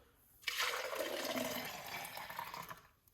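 Lemon and cucumber juice poured out in one steady, continuous splashing stream lasting a few seconds, close and fairly quiet, with no voices.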